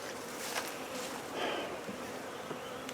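Honeybees buzz steadily around an open hive during an inspection, a dense, continuous hum close by that swells briefly around the middle.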